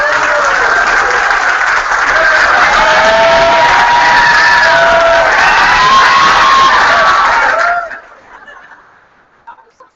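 A crowd at the 2014 Youth Olympics farewell ceremony applauds and cheers loudly and steadily for about eight seconds, with whoops over the clapping, then it quickly dies away to scattered faint noise.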